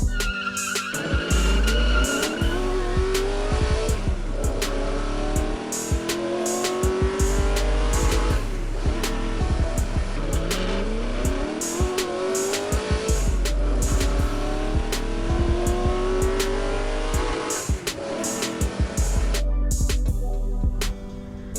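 Hot Wheels toy cars, a Volvo Estate and a Stingray Corvette, run a mile-long drag race with loud, continuous tire-squeal and engine-like whine, repeated sharp ticks and clacks, and rising pitch sweeps throughout.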